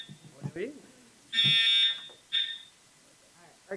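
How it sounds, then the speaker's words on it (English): A school fire alarm goes off during a board meeting, giving two loud electronic tones, a longer blast and a short follow-up, with people talking in the room before and after. "Fire alarm. Yeah. oh, It works."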